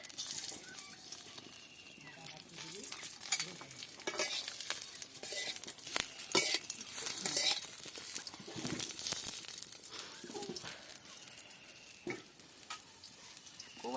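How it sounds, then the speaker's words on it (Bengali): Large brinjals fry in mustard oil in a wok over low heat, a soft continuous sizzle broken by occasional scrapes and taps of a stirring spatula, close and fairly quiet. "এই বড়ো বড়ো বেগুনগুলো আগে ভেজে নেব।"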